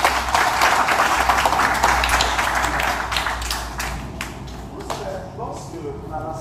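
A church congregation claps and cheers in acclaim of Jesus Christ, a loud burst of applause that gradually thins and fades over several seconds, with voices mixed into the crowd noise.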